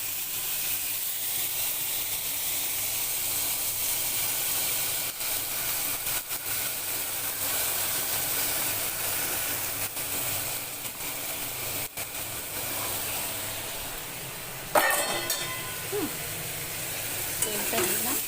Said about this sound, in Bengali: এবার লাল লাল করে আলুটা ভেজে ফিরছি।